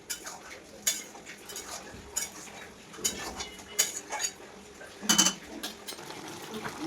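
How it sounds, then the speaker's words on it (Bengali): A spoon stirs poppy seed curry in a pan, giving soft, intermittent scrapes and clinks against the metal with quiet pauses between strokes. "পোস্তটা দেওয়ার একটু নাড়াচাড়া করতেই হবে, পোস্তটা দিয়ে একটু ভালো করে ফোটাতে হবে"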